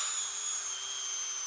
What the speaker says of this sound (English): Excuse the noise of the drill